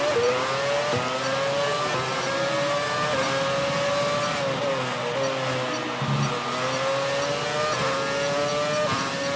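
A Formula 1 car in the F1 2017 racing game at the China circuit, its high-pitched engine screaming loud and close, repeatedly bouncing off the rev limiter with stuttering pitch drops.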